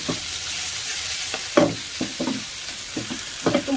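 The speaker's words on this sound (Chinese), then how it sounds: "跟住倒啲海蝦" Shrimp tossed with satay sauce and stock in a wok over high heat, with repeated scraping stir strokes and bursts of sizzle close by, no voices.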